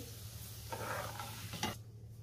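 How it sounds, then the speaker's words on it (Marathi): Grated sabudana (tapioca) frying in hot oil for a fasting chivda, a soft steady sizzle with a couple of brief stirring scrapes, close and quiet, no voices. "आता राहिलेला पण सगळा किस मी तळून घेणार आहे"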